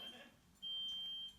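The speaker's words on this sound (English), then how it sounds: "That's the alarm going off." High-pitched electronic alarm in a video game signalling a derailed transport, a thin steady tone that cuts in briefly, pauses, then sounds again and holds, fairly faint over a quiet background.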